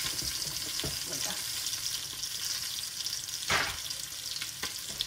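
Fish sizzles in a hot pan with a steady crackling hiss, punctuated by a few louder spatters and stirring scrapes, close and continuous.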